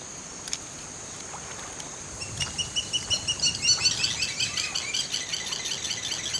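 A small bird calls repeatedly near a clutch of crocodile eggs, rapid chirping bursts building from faint to moderately loud against a steady outdoor background, with no talking.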